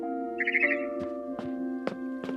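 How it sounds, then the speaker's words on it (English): A barn swallow chirps outside a window in the video game What Remains of Edith Finch, giving a quick twittering run of notes over sustained tonal game music, followed by a few short, sharp calls at steady intervals. "Then I heard chirping outside my window."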